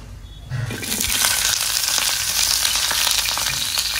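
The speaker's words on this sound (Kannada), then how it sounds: "ಒಂದು ಟೇಬಲ್ ಸ್ಪೂನ್ ಅಷ್ಟು ಎಣ್ಣೆಯನ್ನು ಹಾಕಿ ನಾನು ಸ್ವಲ್ಪ ಫ್ರೈ ಮಾಡಿ ತೆಗೆದುಕೊಳ್ಳುವಂಥದ್ದು" Onion hits a tablespoon of hot oil with a quiet start that surges into a loud, crackling sizzle, then keeps frying steadily with bursts of spitting and stirring.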